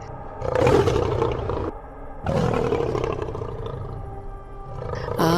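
Cartoon lion roars from a Bengali fairy-tale animation, two long, loud bellowing roars with a brief pause between, close and dramatic, with a sharp burst at the very end; no talking.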